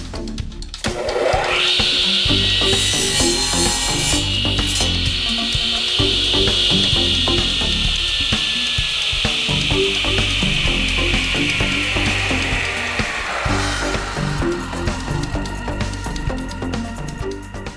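A wood blank for an ink pen being cut in half, heard as a steady, continuous grinding buzz lasting about twelve seconds, close and loud, with a whining tone that suggests a powered saw, then trailing off.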